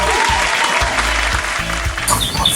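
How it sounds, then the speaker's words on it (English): Audience applause for Sister Albi Lazaga, a speaker from Coloma, Honduras, at a talk on abortion, a steady dense clapping that fills the whole stretch and swells slightly near the end. "let's give a clap to Sister Albi Lazaga"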